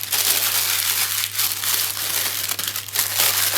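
A sheet of baking paper is crumpled and squeezed by hand, producing continuous close, crackling crinkles with small bursts, over a faint steady low hum.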